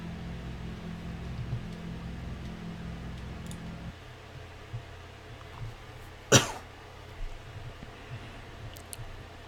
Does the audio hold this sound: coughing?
yes